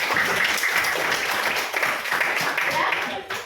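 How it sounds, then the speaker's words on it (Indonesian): Classroom applause for two students, a dense burst of many hands clapping close by, steady for a few seconds before tapering off, with voices mixed into the noise. "Oke, tepuk tangan untuk Najwa dan Salita."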